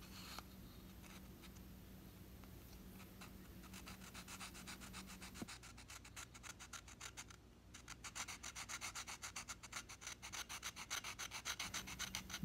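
A sanding tool rubs steadily across carved wooden owl wings, a continuous close scratchy abrasion that grows into a quicker rhythmic back-and-forth stroking toward the end, with no talk.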